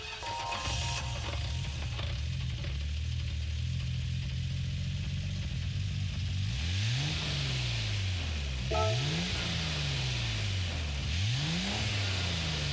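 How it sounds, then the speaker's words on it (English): A 1994 Nissan R32 GT-R V-spec II cranks and settles into a steady idle in Gran Turismo 7, then several sharp throttle blips rev the engine up and let it fall back. "we're going to click on the R32, and we'll listen to the startup sound"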